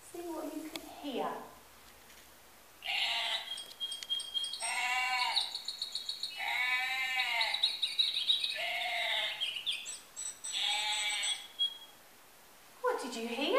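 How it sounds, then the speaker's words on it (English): Several goat bleats, wavering and nasal, repeat one after another alongside high bird chirps, with a brief voice at the start and end. "I heard a goat and some birds."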